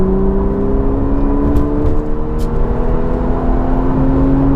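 Porsche 911 Targa 4S of the 991 generation in sport mode, its engine note climbing steadily under hard acceleration, a loud continuous rising drone with steady harmonics and no talk over it.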